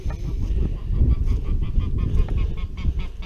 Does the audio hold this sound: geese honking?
yes